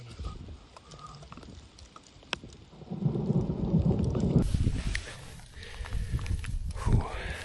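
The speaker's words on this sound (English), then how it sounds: "so it's raining again" Rain patters steadily outdoors during a mule deer hunt in the Utah backcountry, and a rolling rumble of thunder swells midway and lingers, with occasional sharp drops and faint movement nearby.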